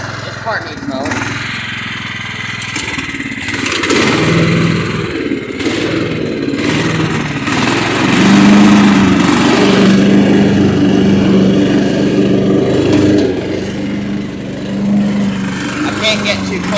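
A Craftsman lawn tractor engine drones steadily while mowing, its low hum pulsing and swelling slightly in loudness, with people talking over it throughout.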